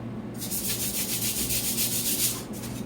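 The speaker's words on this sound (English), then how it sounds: "I gotta rough it up and sand it and get ready for the flood coat" Steady, continuous sanding rasps across the cured finish of a cedar countertop, close and loud for most of the stretch, with a brief pause near the end before the strokes resume.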